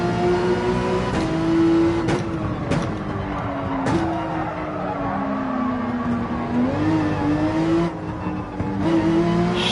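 A race car engine in Gran Turismo 7 holds a steady high drone while its tires are pushed hard on a highway course, with sharp clicks and faint squeal over the continuous engine tone.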